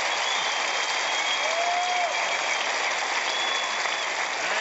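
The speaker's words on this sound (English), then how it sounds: "and this crowd erupts." A tennis crowd at a Volvo Tennis LA match bursts into sustained, loud applause and cheering, a dense wash of clapping filling the whole stretch with a few whistles on top.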